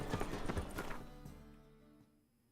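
Hooves of Roach, the horse in The Witcher 3 game, trotting in a quick clip-clop rhythm at moderate level with game music underneath, fading out toward the end.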